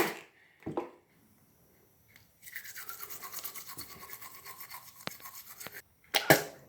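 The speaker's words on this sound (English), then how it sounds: "I will brush my teeth with peroxide because it's really good for them" A toothbrush with peroxide scrubs teeth in quick, even back-and-forth strokes for several seconds, close and crisp, framed by brief bumps and clatter before and after.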